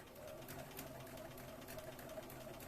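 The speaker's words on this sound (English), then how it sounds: "It's because I've started sewing" A sewing machine stitches a Regency dress, its faint, steady, rapid needle chatter running evenly throughout with no pauses.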